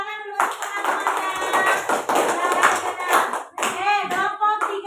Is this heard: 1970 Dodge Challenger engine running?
no